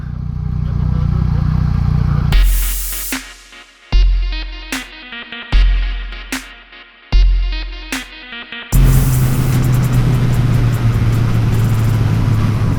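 600cc motorcycles on a road in Alberta, Canada, roaring past close by one after another, each surging in loudly and fading quickly, then a sustained engine drone.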